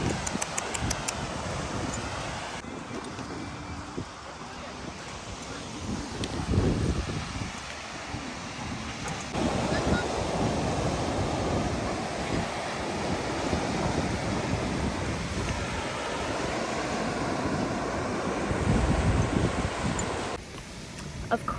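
Steady wind buffeting the microphone on a sunny, crowded beach, with surf washing in beneath it as a constant, close roar that rarely lets up.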